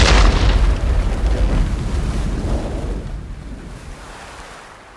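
A pirate fire ship rams and explodes in the Age of Empires 3 cinematic: a loud, close blast with a deep boom that rolls into a long rumbling decay and fades over several seconds.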